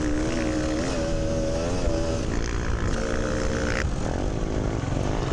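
A Beta dirt bike roars past at a charity trail ride, its engine a loud, steady buzzing drone that rises and falls in pitch as it goes by, with wind noise over the whole pass.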